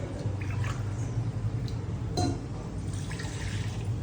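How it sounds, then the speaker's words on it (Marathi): A glass of water is poured into sorghum flour for traditional ambil, a continuous close liquid pour and splash with faint drips, steady and unbroken. "ह्याच्यामध्ये पाणी घालायचं एक ग्लास"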